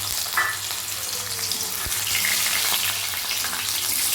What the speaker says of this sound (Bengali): আলুটা দু এক মিনিট একটু ভেজে নেব